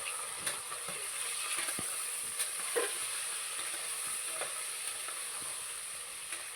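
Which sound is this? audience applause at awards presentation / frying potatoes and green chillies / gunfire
frying potatoes and green chillies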